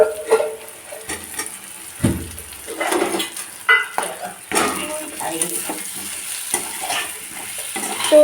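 Potatoes frying in spiced oil in a pan for a dhaba-style vegetarian chhena dish, a steady sizzle broken by scraping stirs and clinks of a utensil against the pan, with brief speech in places.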